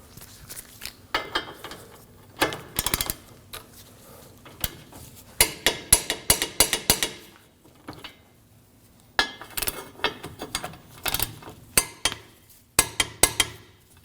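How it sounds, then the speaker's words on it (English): On a 2016-2022 Honda Pilot, a torque wrench tightens the control arm bolts of the rear suspension, giving off bursts of quick metallic ratcheting clicks separated by short quiet gaps. "We'll torque our outer and inner control arm bolts to 74 foot-pounds."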